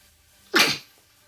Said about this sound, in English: Just gonna cut out me sneezing